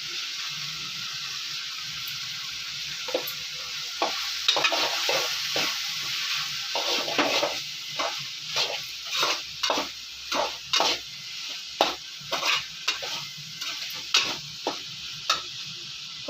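Curry frying in a pan with salt and chili powder, a steady close sizzle under a run of rhythmic scraping stirs that grow more regular toward the end.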